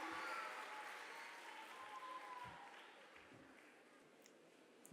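An audience at a Uttar Pradesh government event for the International Day of the Girl Child claps steadily to welcome the Chief Minister, a dense, even wash of applause slowly fading without a clear voice.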